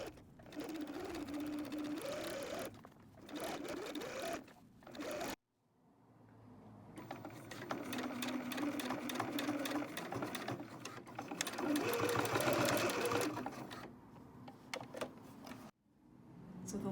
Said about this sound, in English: Now we're going to top stitch around the whole top edge with a slightly longer stitch length